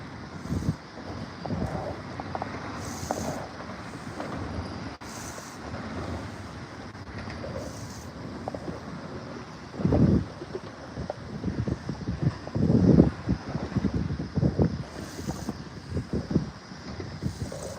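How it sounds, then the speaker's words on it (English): Wind blowing outdoors on the water near a bridge during a fishing outing: a gusty, rumbling buffeting fills the whole stretch, swelling louder in bursts toward the middle and end, with no talking. "I got my back to the wind right now, so there shouldn't be too bad a wind right now"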